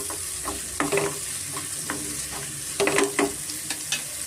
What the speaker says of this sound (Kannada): ಈರುಳ್ಳಿ ಮತ್ತು ಶುಂಠಿ ಬೆಳ್ಳುಳ್ಳಿ ಹಸಿಮೆಣಸಿನ್ಕಾಯಿ ಎಲ್ಲ ಇಷ್ಟು ನಮಗೆ ಫ್ರೈ ಆದರೆ ನಮಗೆ ಸಾಕಾಗುತ್ತೆ